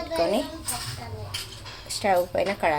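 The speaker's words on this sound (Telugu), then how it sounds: "చూడండి స్టవ్ పైన కడాయి పెట్టుకొని ఆయిల్ వేసుకుంటున్నాను" A metal kadai pan clanks onto a stove and oil is poured in, with clinks of cookware between bursts of a woman's speech.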